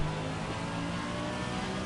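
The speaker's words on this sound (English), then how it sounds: "You just hear the revs jump as well as the cars reach the pinnacle point of the elevation there" A GT3 racing car engine in a video game at Zolder drones steadily and loudly, the tone holding at high revs throughout with a slight rise, no voices over it.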